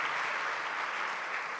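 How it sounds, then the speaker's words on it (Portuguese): A church congregation claps in a dense, sustained round of applause, loud and even across the whole moment. "Salva de palmas para o Senhor."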